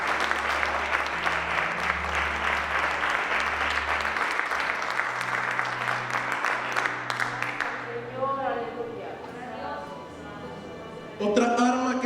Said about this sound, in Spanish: El aplauso a Dios en esta tarde.